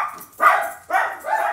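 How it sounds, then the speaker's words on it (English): Dogs barking indoors during a phone call, three separate bark bursts in quick succession, moderately loud and close, with no talking over them. "I'm sorry, my dogs are barking."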